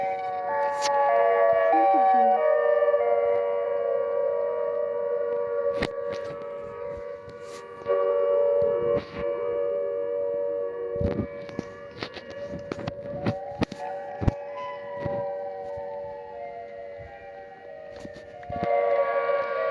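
A long, wailing Siren Head siren from a Minecraft survival game holds steady tones that rise and fall, moderately loud, with sharp clicks and game noises over it.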